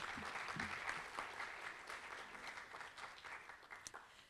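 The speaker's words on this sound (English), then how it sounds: "Applause." An audience at a 2018 entertainment industry panel claps in a dense round of applause that slowly fades toward the end.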